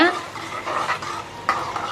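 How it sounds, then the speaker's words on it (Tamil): Sambar made with kuthiraivali (barnyard millet) is stirred in a cooking pot, giving a continuous wet swishing and scraping with a couple of sharper spoon knocks, close and fairly loud, with no talking. "இப்போ இதை நல்லா வந்து கலக்கி விடுங்க"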